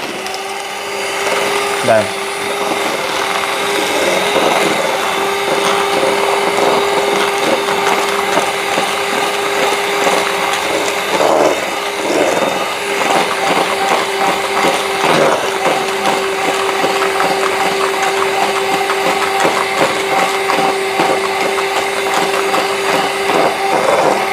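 An electric mixer whisks egg into cake batter with a continuous, loud motor whine and rattle against the bowl, while a voice speaks occasionally underneath.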